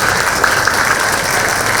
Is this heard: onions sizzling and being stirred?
no